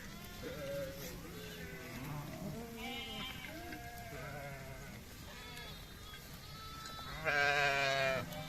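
Flock of sheep and goats bleating repeatedly in a forest while herded by nomadic shepherds with dogs, several overlapping calls near and far, one louder close bleat near the end, faint background voices.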